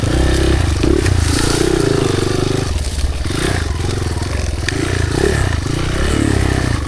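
A motorcycle engine hums and labours steadily on a rough road, with clattering and scraping from the bumpy surface, and a voice talking briefly over the ride.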